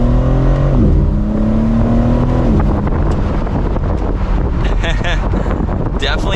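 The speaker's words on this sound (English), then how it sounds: "let's do another acceleration though with the top down. See if we can hear that exhaust a little bit better" A 2023 BMW M4 Competition Convertible xDrive accelerating with the top down, its engine and exhaust rising in pitch under heavy wind rush, then blurring into broadband road and wind roar.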